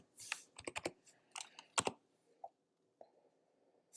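Quiet keystrokes on a computer keyboard arrive in short uneven bursts of clicks and then trail off into sparse single taps with silence between them.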